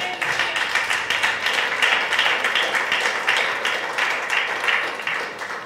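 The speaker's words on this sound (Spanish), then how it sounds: "Dale un aplauso al Señor." A church congregation claps during a sermon, a dense, continuous wash of many hands that holds steady for several seconds at moderate loudness, with no voice on top.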